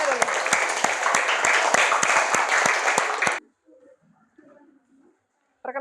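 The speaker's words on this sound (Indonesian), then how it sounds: "Kasih tepuk tangan buat temannya dulu." A burst of enthusiastic classroom group clapping with sharp, close claps that cuts off abruptly, followed by quiet murmuring and a brief return of noise.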